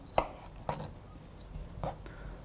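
Kiwi sliced with a knife on a cutting board: three soft, separate cuts landing as quiet taps spaced through a calm, close scene, with faint speech around them.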